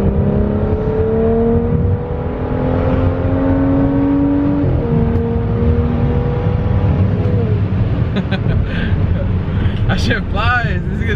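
A BMW F10 535i running E85 fuel accelerates hard, its engine note climbing in rising sweeps through successive gearshifts, loud and close from inside the car, with people talking over it.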